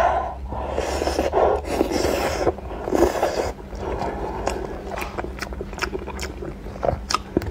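Close, wet biting and chewing of lobster full of rich, runny roe, with crunchy shell crackles and sharp clicks, steady and continuous through the stretch, with no speech.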